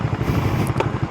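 TVS Apache 4V motorcycle engine pulling hard at steady high revs, a dense continuous roar with a brief sharper burst near the end, close and loud without pause.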